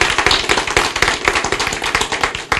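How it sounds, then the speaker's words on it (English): Applause from an audience at a family planning expansion event, honoring a state delegate; dense, close, continuous clapping with sharp individual claps running throughout. "Give her a round of applause."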